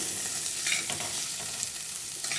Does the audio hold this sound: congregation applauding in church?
no